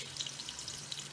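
Oxtail pieces fry in hot oil with a dense, steady sizzle and fine crackling bubbles, close and fairly quiet, with no talk.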